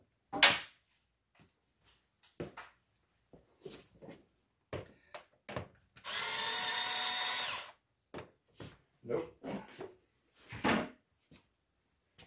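A cordless screwdriver runs on a 7mm bolt head while working on the clutch hydraulics of a Datsun 240Z, giving one steady whirring burst of about two seconds among scattered clicks and clunks from the tool and parts.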